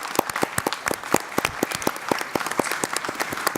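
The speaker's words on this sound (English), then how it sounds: "let's give our translators a round of applause and show our appreciation" A small group claps steadily, a brisk patter of distinct hand claps that stays fairly even throughout.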